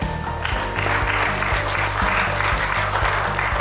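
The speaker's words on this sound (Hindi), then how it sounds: "तो तालियों की गड़गड़ाहट भी थोड़ी ज़्यादा ही होनी चाहिए" Steady, dense applause from an audience at a Lions Club gathering fills the room, loud and continuous throughout, with a rhythmic bass beat of music thumping underneath.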